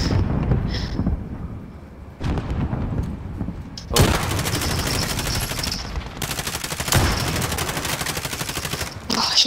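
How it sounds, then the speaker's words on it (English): Rapid automatic gunfire from a Warzone match, with sustained bursts of dense, loud shots following a quieter opening and continuing almost without pause to the end, mixed with game ambience and brief voice chat. "What's he shooting at?"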